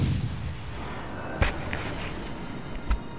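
Naval gunfire in the World of Warships: Legends video game: two sharp, booming gun reports about one and a half seconds apart stand out over a steady rumbling battle background.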